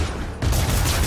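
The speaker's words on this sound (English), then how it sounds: "I didn't want you shooting guns at me" Brief burst of rapid enemy gunfire in the Spider-Man PS4 video game, loud and close, a dense volley that swells after a short quieter lead-in.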